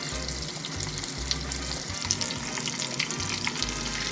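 Panko-breaded shrimp fry in hot oil with a steady, close sizzle and bubbling, punctuated by a few low thumps, and no voices over it.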